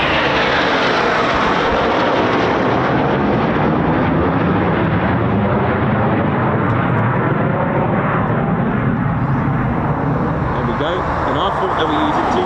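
A Eurofighter Typhoon FGR4 jet roars loudly and continuously at RAF Coningsby, its broad engine rumble filling the whole stretch and changing only slowly.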